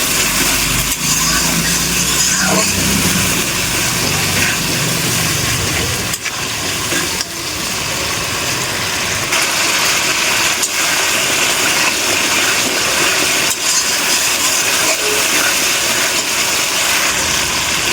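Spiced masala for an eggplant and tilapia curry sizzles and bubbles steadily in a hot pan after water is added, a loud continuous hiss with a few brief knocks.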